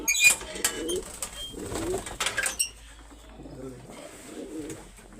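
Pigeons coo softly in low, throaty bursts, close by, with some rustling, wing flutters and a voice talking faintly in the background.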